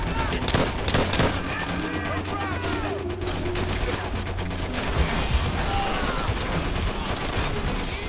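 Rapid gunfire in the jungle battle of the video game Call of Duty: World at War, dense bursts of shots and machine-gun fire at a loud level, with a voice talking over it now and then.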